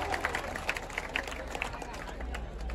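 A large outdoor crowd at a Dahi Handi festival clapping and cheering, a broad wash of applause with scattered sharper claps and shouts, somewhat distant, with voices in the mix.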